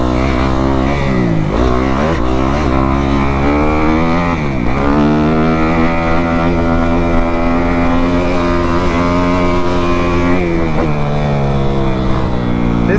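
Kawasaki KX250F four-stroke dirt bike engine running steadily, loud and close, with its pitch rising and falling as the throttle is blipped and eased during urban riding.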